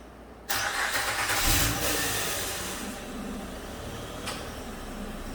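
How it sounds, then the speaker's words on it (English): A 2008 Honda Ridgeline 3.5-litre engine, after timing belt, water pump and spark plug replacement, cranks and catches, then settles into a steady, fairly loud idle that fills the rest of the clip with no one talking. "Now it says start the engine."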